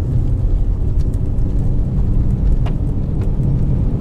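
A 2020 Lada Granta with automatic transmission rolls along an uneven road on the first snow, a steady low engine and tyre rumble filling the cabin continuously with no talk.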